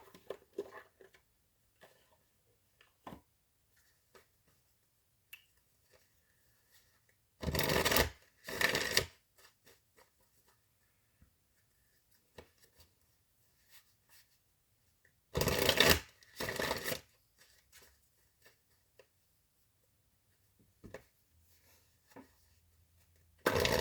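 A deck of Romance Angels Oracle cards by Doreen Virtue is riffled in two separate pairs of quick, crisp shuffles, each about a second long, separated by long near-silent stretches with faint taps.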